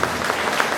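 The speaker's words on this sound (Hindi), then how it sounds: "एक बार सुनील जी के लिए जोरदार तालियां, जोरदार।" Applause from an audience at a Hindi poetry recital on Martyrs' Day, a brief burst of dense, steady clapping close by with no voices over it.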